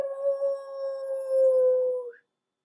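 Someone imitates a wolf howl with their voice: one sustained, steady howl lasting about two seconds, rising slightly at the end before cutting off, alone and close.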